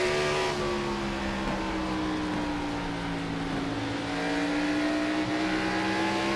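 Stock car engines in an iRacing NASCAR race at Bristol Motor Speedway drone continuously and loudly, pitch rising and falling slightly as several cars run together in a pack.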